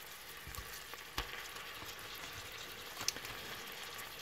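Onions and minced beef browning in a pan for a thermal-cooker dish, a faint, steady sizzle with a few soft pops and stirring scrapes, close by and without talk.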